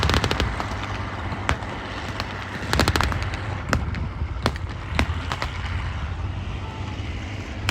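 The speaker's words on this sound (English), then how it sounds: "the Honey, to lay down some fire for its Browning machine guns and its 37mm" An M3 Stuart 'Honey' light tank fires its Browning machine guns and 37mm gun at a Tiger Day battle re-enactment at Bovington, with sharp bursts and cracks over a steady rumble of engines and crowd ambience.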